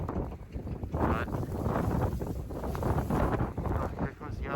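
A strong gust of wind buffets the microphone during a coastal Massachusetts blizzard, a loud, continuous roaring rush that holds for several seconds.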